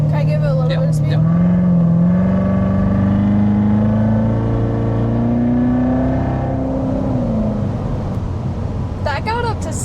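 A Corvette accelerating at about half throttle, the engine note climbing steadily from inside the cabin before easing off, with voices talking over it near the end.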